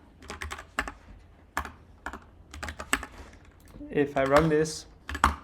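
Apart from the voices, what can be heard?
typing on a computer keyboard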